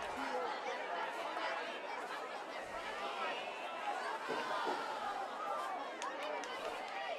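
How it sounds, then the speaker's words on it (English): Dense, excited cheering and chatter from a crowd at a Friday night high school football game between Harper Woods and Orchard Lake St. Mary's, a steady roaring babble throughout with no clear single voices. "Crowd getting excited"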